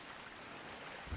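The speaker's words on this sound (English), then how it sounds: "I hear a lot of splashing." Steady rushing water splashing in the game Dark Souls 2: Scholar of the First Sin, a faint, continuous wash with no voices over it.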